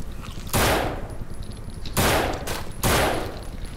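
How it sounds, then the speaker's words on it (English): Gunfire in the zombie game No More Room in Hell: three loud, close bursts of rapid shots about a second apart, each rolling off into a noisy tail, with no talk over them. "Let me shoot my way through."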